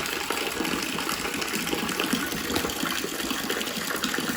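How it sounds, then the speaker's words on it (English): Homebrew wort for a Weissbock, drained from a Braumeister brewing system into a bucket, makes a steady, even gush of pouring liquid throughout, moderately quiet and close. "all that's left now is then to put the rest of the wort in the bucket"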